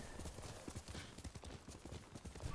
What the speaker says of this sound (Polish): teraz możemy konia zawołać